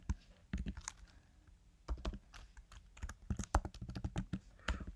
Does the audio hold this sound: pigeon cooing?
no